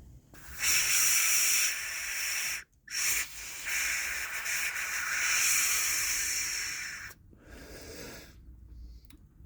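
A homemade whistle made from a bullet casing is blown, giving a steady breathy hiss that runs for several seconds, breaks off briefly, resumes at length and then fades out.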